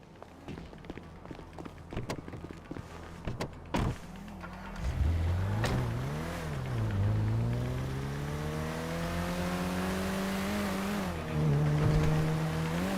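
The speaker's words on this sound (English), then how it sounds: "Shumash, you're driving." A car driven in the video game GTA 5: a few clicks and knocks, then the engine starts and revs up, its pitch rising and falling through the gears as it accelerates, heard close without talking.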